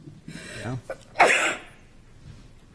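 Single sharp sneeze in a Planning Board meeting room, coming right after a few murmured words and a short throat sound, moderately loud and then fading into quiet room tone.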